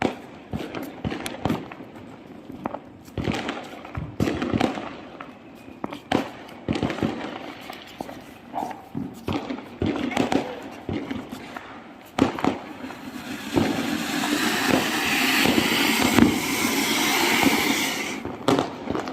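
Diwali firecrackers and a 100-shot fireworks cake burst in rapid, non-stop succession, sharp cracks and pops repeating close by before a denser crackling hiss builds near the end.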